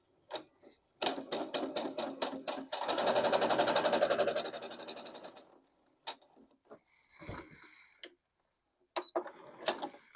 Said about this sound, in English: now we're going to do another test stitch to once again make sure the machine is threaded correctly